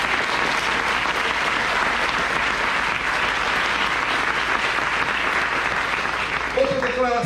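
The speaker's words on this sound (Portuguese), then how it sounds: "Você pode aplaudir o Senhor Jesus?" A church congregation applauding, dense sustained clapping from many hands filling the room, fading toward the end as a voice starts to speak.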